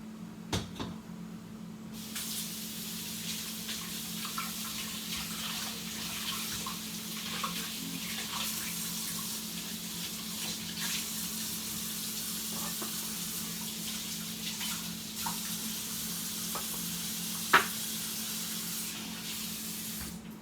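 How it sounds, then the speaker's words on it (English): Water runs steadily from a tap into a sink while plantains are washed, a long stretch of constant hissing spray with faint clinks and one brief sharp knock near the end. "I'm gonna throw these in the sink"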